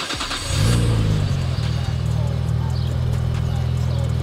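Nissan Skyline GT-R R34 engine cranking and firing up, then settling into a loud, steady, deep idle rumble close by.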